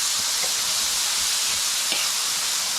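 Roe deer meat frying hard over a strong flame in a pan, a steady close hiss of sizzling fat and juices with faint pops, continuous and unbroken with no talk.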